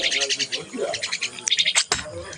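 A myna bird calls in a string of close, bright, rapid notes, with a few sharper squawks near the end.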